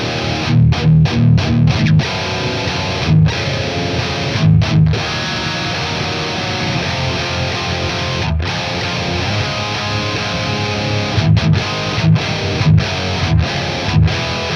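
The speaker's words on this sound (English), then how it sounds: "That sounds exactly like a dual rec." High-gain electric guitar runs through a Mesa Dual Rectifier amp plugin with bright, mid-focused metal distortion, loud and continuous riffing with chugging palm-muted bursts and short choppy stops, playing alone without talk.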